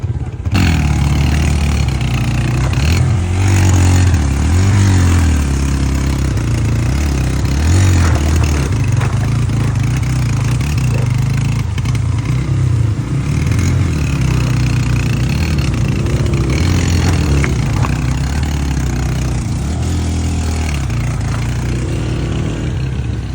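A motorcycle engine labours and revs on a slippery, wet mountain track in Bashu Valley near Skardu, a loud, close, rough drone that surges and dips throughout with no talk over it.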